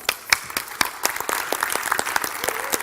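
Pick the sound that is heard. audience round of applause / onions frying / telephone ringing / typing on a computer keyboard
audience round of applause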